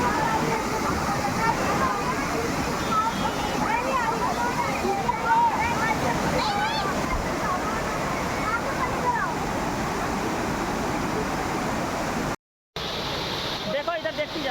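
Rushing water at Nainital in Uttarakhand, a loud, steady broadband wash that fills the whole clip with only a brief dropout near the end, while voices talk over it.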